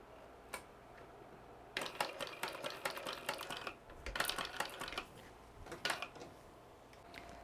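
A sewing machine bastes a few quick stitches on a fabric wristlet, with short, close bursts of rapid mechanical ticking separated by pauses.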